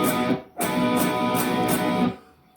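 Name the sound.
guitar strumming chords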